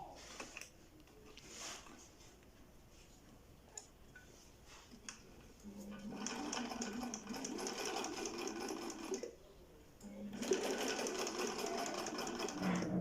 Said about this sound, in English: So on this sewing machine.